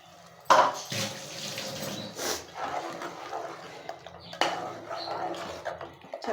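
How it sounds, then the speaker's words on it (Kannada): Water is poured and sloshed while a mixer jar is rinsed in a kitchen during the cooking of fish sambar, giving a soft close splashing with brief clinks of the container. "ಆ ಮಿಕ್ಸಿ ಬಾಕ್ಸ್ ಎಲ್ಲ ತೊಳೆದು ನಾನು ಉಯ್ತಾಯಿದ್ದೀನಿ ನೀರು"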